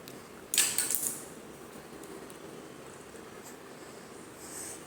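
Scissors cutting excess saree fabric for a long gown give a short, close burst of crisp snipping strokes early on, followed by quiet room tone.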